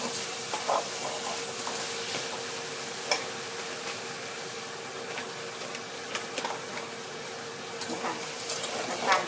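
Sugar being stirred in a hot pan for Thai braised pork belly with eggs, a steady low sizzle with faint scraping and occasional soft clinks, continuous and close, no talking.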